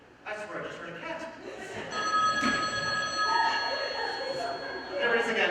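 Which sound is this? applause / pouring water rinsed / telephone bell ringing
telephone bell ringing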